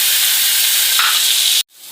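Onion paste frying in oil in a karahi for an achari rohu fish curry, a loud steady sizzle and hiss that cuts off abruptly near the end.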